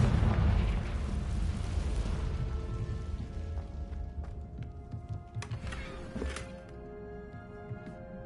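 A Confringo fire spell explodes in the video game Hogwarts Legacy, a loud rumbling blast that rolls out and slowly fades, leaving a few ringing magical chimes and small pops.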